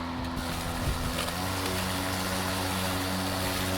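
A DeWalt Gen 2 cordless lawn mower (DCMWP233U2) running loud and close, its motor revving to a higher, steady whine that holds throughout.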